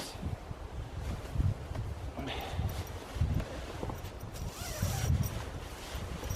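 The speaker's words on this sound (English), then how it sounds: "can actually reach up and get to the zipper." A zipper on a hammock underquilt is pulled in short, scratchy runs against steady wind and fabric rustle, close to the microphone.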